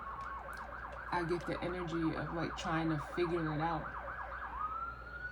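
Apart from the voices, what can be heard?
emergency vehicle sirens passing outside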